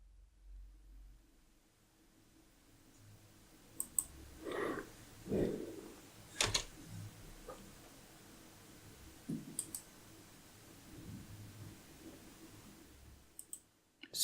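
Keyboard keys are tapped to enter a password on a computer, a few scattered soft clicks over a quiet background with pauses between them.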